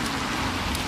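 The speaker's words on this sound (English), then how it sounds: "I think it's not raining that bad." Steady rain falls outdoors on a trip in Wales, a close, even hiss of drops on surfaces with no pauses.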